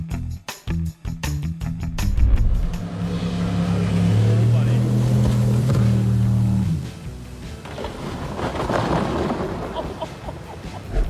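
Boat engine maneuvering alongside a dock as if parallel parking on the water: a loud droning motor hum rising and holding for several seconds before dropping away, with clattering knocks beforehand and faint voices.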